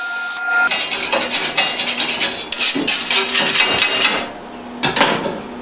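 Sander grinding on a metal plate in a machine shop while building a crane part, a dense rasping burst of roughly three seconds, then a pause and a short final touch near the end.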